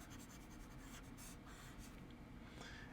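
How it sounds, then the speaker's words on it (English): Writing is wiped off a board with an eraser during a math lesson, making faint, soft scrubbing and rubbing strokes in short uneven passes, with no one talking. "Let's erase some of this."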